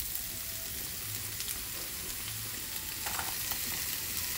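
Hot frying pan sizzling steadily while making carbonara, a continuous crackling hiss at moderate level with small pops and stirring scrapes, no talking.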